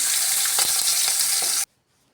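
Green chillies hit hot oil with a loud, steady sizzle and a few spoon scrapes, cutting off abruptly to near silence for the last half second.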